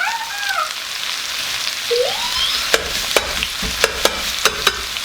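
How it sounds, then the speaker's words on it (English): Mushrooms stir-frying in a hot pan for a vegan spicy jjamppong, a steady broadband sizzle with sharp utensil scrapes and clacks recurring near the end, loud and close with no talk. "You're gonna, you know, stir fry the mushroom."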